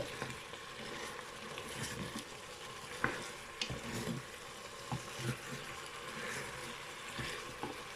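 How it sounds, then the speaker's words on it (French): Pork with leeks and potatoes being stirred in a pan, with a steady sizzling fry, soft scraping and occasional clinks of the spoon against the pan, close by and without speech. "Alors je mélange d'abord pour voir si j'en ai mis assez."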